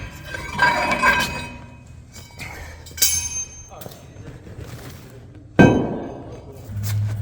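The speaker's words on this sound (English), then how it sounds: "and she slides out" Metal clinks and a heavy thunk as the rear axle of a Chevy C30 with 70 HP axles slides out of its housing, close by, a few sharp knocks over faint background noise.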